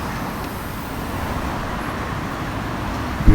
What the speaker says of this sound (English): Vehicles are moving forward, maintaining the traffic rules.